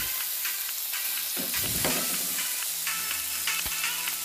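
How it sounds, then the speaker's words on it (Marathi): Saundale fish fry in a pan with a loud, continuous, close sizzle, broken by a few sharper bursts of spattering and some faint stirring noises. "दुसरी जी मच्छी बाकी राहिलेली आहे ती पण फ्राय करून घेतो आता"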